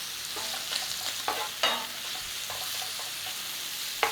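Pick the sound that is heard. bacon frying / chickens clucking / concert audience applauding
bacon frying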